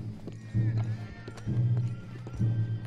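Horses in the Red Dead Redemption 2 video game approach with rhythmic clip-clopping hoofbeats that recur in heavy bursts. A low rumble sits underneath and faint voices can be heard in the background.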